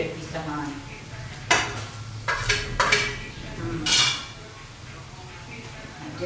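Cooked egg, potato and flour mixture is turned out of a pan onto a plate with scraping utensil strokes and a few sharp clinks against cookware, close and intermittent over faint background sizzle.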